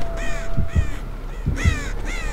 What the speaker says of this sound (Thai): โอ้โหอีกานี่ร้องรัวๆ